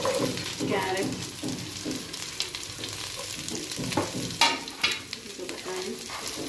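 Beans and carrots frying in a pan for paneer pulao, a close, continuous sizzle broken by repeated scraping stirs and a couple of louder clatters near the end.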